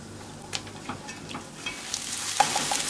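Chopped dry onion sizzles in a pan with meatball fat and a little oil, a steady close fry that swells toward the end, broken by occasional stirring scrapes and clinks.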